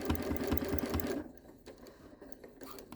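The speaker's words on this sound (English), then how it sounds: "So now I'm going to stitch on the other side of that seam" Sewing machine stitching in the ditch along a flipped fabric seam, a fast steady rhythmic chatter for about a second before it stops, leaving quiet room noise with a few faint clicks.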